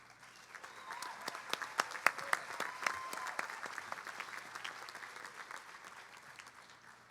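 A college commencement audience claps for seniors receiving awards, a dense patter of many hands rising quickly then gradually fading, somewhat distant in a large space.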